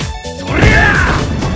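Machine Gun Blow punch hits in Street Fighter, a sharp smashing impact followed by a bright ringing hit effect, loud and close.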